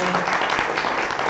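Audience applause for six city council debate candidates in Myrtle Beach, South Carolina: a dense, steady wash of clapping from a crowd, continuous throughout the short stretch.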